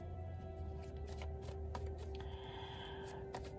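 Tarot cards are shuffled close up in quick, crisp riffling bursts over a faint electrical hum, with no talk.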